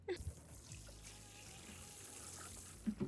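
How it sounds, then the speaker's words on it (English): Water pours steadily onto garden plot soil where lettuce is being sown, a soft continuous splash and trickle heard close by, with a couple of faint knocks at the start and end. "I'll again chuck in some water"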